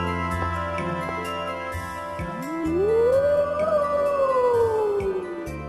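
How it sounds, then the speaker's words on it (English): A single long wolf howl rises and then slowly falls in the video game Tales of Symphonia: Dawn of the New World, clear and sustained over soft background music. "There's that howl again."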